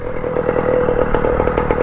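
A small moped engine idles close by right after its newly fitted ignition key is switched on, a loud, steady buzzing drone with a fast pulsing rhythm.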